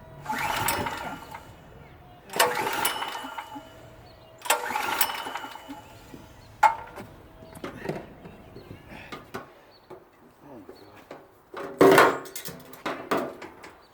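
Repeated pull-start attempts on a PowerSmart PS44 3000W gas generator: several bursts of recoil cranking and engine sputter, each a second or so long, separated by pauses and clicks, close and fairly loud.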